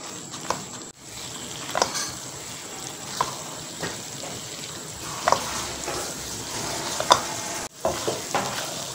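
Besan halwa roasting in ghee in a pan, stirred quickly, giving a steady soft sizzle with irregular scraping and stirring knocks, fairly close and with no talk.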